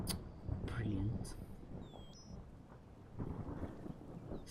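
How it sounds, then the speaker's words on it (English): A thunderstorm with rain in the video game Skyrim: low rumbling thunder and a soft wash of rain, moderately quiet, with someone talking over it and brief game effect sounds. "Storm is coming."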